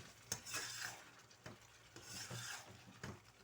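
Aloo chana biryani masala is stirred and fried over high heat, a soft sizzle running under repeated scraping strokes of a spoon against the pot, close and fairly quiet, with no talk.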